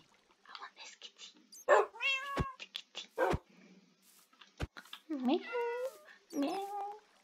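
A cat in the video game Minecraft gives several short meows, while a person talks and imitates the meowing close to the microphone between the game sounds.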